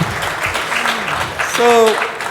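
An audience applauds at an entrepreneurs conference in Dubai. Loud speech carries over the clapping throughout.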